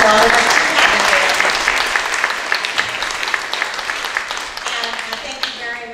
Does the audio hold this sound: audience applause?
yes